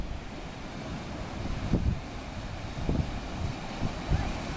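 Waves roll up on a cold, windy beach strewn with driftwood, several surges washing in about a second apart over a steady roar of wind buffeting the microphone.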